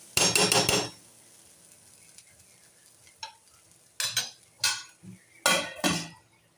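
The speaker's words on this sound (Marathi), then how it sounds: "आता आपण झाकण ठेवूया।" A lid goes onto a pan of tomato potato poha with a burst of metallic clatter, followed by several separate clinks and scrapes of cookware, close up and with no talking.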